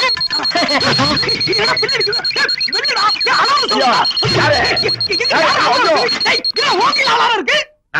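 A steady high electronic alarm tone rings continuously over loud, busy talking and background music, cutting off abruptly near the end.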